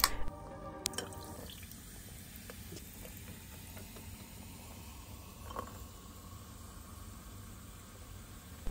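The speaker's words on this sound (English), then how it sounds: "We start by adding ice into our glass, pouring in our tonic water" Tonic water poured over ice cubes in a glass, with a short splashing pour and clink at the start, then a steady, quiet fizzing hiss with faint drips and crackles close by, no talking.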